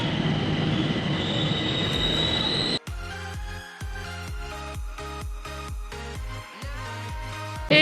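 A train arriving at a station in China, first a steady loud rumble, then a rhythmic run of heavy wheel clatters over rail joints with some squealing, close by and with no voices.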